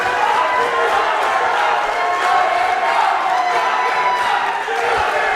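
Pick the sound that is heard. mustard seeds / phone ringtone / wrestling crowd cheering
wrestling crowd cheering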